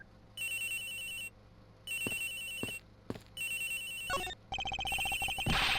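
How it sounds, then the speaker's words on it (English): A cell phone ringtone in the video game Ace Attorney Investigations, repeated electronic ringing bursts with short gaps between, followed by game sound effects and a louder final burst. "The ringing is coming from somewhere around here."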